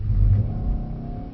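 A Mercedes E63 AMG engine pulls hard under throttle on a skid pan, a loud, steady low rumble that swells early and then holds at a high drone through the whole short stretch.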